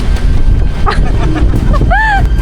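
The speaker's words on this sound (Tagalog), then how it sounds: "Grabe naman kasi yung hangin." Strong storm wind sweeps a beach campsite, buffeting the microphone with a continuous low roar. A brief rising whistle-like tone appears near the end, and faint voices can be heard.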